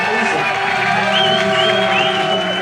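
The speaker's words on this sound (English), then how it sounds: "The crowd went insane and didn't stop cheering, and the show hasn't even started." A packed crowd at a small metal concert cheers and shouts continuously before the show starts, a loud, dense wall of voices with whoops rising above it and no break.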